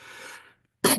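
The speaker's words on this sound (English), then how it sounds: "Pardon me for my cough." A soft breathy exhale fades to a brief silence, then one sharp, loud cough bursts out close by from a speaker getting over a cold.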